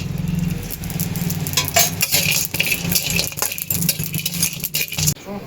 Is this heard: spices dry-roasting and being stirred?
yes